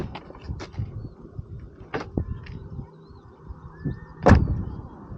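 Rear door of a Tesla Model Y Juniper shutting, a solid thud near the end after quieter handling and background rustle, with no talking.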